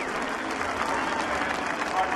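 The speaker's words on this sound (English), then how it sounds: "Jeff Gordon gets a round of applause from the crowd here" A crowd at the Daytona 500 applauds Jeff Gordon after a wreck, a continuous wash of distant clapping and cheering from the grandstands, steady for the whole stretch under a faint broadcast murmur.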